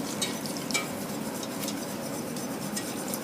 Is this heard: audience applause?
no